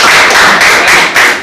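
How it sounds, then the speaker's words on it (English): Audience applause at a panel discussion, a brief loud burst of clapping close by with no talk over it. "let's give the round of applause"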